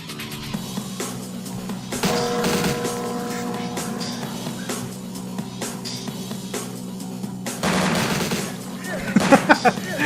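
Gunfire in Vampire the Masquerade - Bloodlines, bursts of shots under a steady humming drone, with louder clusters near the start and end and a voice talking briefly.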